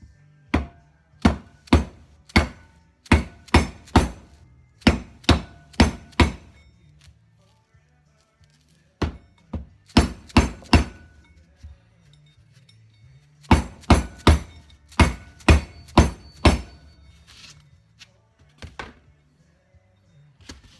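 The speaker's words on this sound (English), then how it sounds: "If I had a press, I'd press it in there. This isn't going to hurt nothing. Rubber hammer." A rubber hammer taps a part into a Norton Commando 750 motorcycle during restoration, with repeated sharp knocks landing in quick bursts separated by short pauses.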